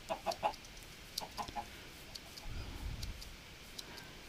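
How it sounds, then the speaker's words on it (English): Soft clucks from a chicken in the video game Minecraft come in short quick bursts, faint and near, over low background noise, with a dull low rumble midway and no talk. "There's a chicken in that tree."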